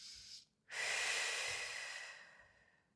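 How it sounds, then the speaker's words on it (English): A close, airy deep breath taken during a floor stretch in a core and mobility session: a brief inhale, a short pause, then a long, loud exhale that gradually fades. "Take a couple of big deep breaths in for me."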